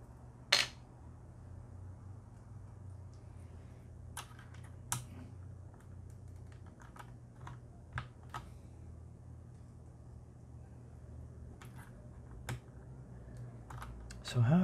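Mechanical keyboard keycaps pried off with a key removal tool, including larger keys: scattered sharp plastic clicks and ticks spaced irregularly over a low steady hum, close and fairly quiet, with no talking.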